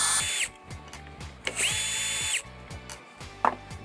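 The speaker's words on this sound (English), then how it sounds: "Here I remove the trigger switch using a T20 Torx screwdriver and the strain relief for the power cable." Power driver with a T20 Torx bit backing screws out of a DeWALT DW357 circular saw during repair, several short whirring bursts that rise and fall, separated by gaps and small clicks.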